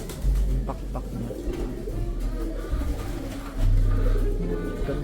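A pigeon hen at a loft coos close by in low, repeated throaty phrases over a steady background hum.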